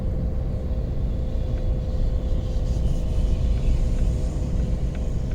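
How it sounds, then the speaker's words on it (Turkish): A Renault Megane 2 engine runs steady at about 2000 rpm while driving, a constant low rumble with road and cabin noise, even and uninterrupted. "Şu an mesela 2000 devirde sabit gidiyorum."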